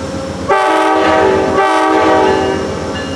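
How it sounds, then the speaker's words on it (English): Amtrak passenger train departing Salisbury northbound, its horn sounding loud and close in two long blasts over the steady rumble of the moving cars, with no voices. "Amtrak 80 now departing Salisbury."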